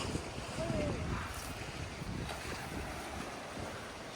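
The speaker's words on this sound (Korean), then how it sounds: "바람이 너무 많이 불고 날씨가 좀 변덕스럽기도 하고" Strong wind gusts across a microphone at a chilly seashore, with waves breaking behind it, a steady loud broadband rush lasting the whole moment.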